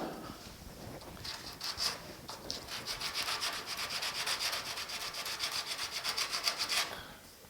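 80-grit sandpaper on a small wood block is rubbed by hand over body filler in the door jamb of a 1950 Chevy truck, making a steady run of quick, close scratchy back-and-forth strokes that builds in pace.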